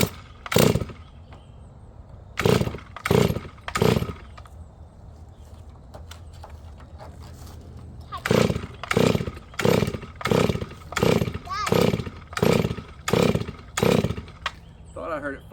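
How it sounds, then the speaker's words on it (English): A Chinese clone of a Stihl 444 chainsaw, freshly fuelled, is pull-started with a series of sharp, loud recoil-cord rips, first a few spaced pulls, then a quicker run of about ten in rhythm, without the engine catching. "Let's see how many pulls it takes to start."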